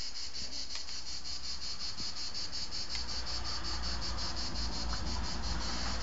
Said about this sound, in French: Et on entend les grillons, les cigales plutôt.